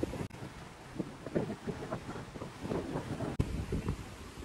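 Wind blows across the microphone at Praia das Bruxas beach in Florianópolis, a faint, steady rushing roar with gusty swells and a couple of sharp buffets.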